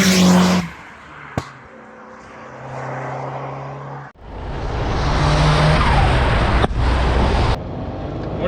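An Alfa Romeo 75 Evoluzione drives on an open road with its engine loud and close. Wind and road roar swell as it accelerates, and there are sharp gear-change breaks and short dips in the engine note.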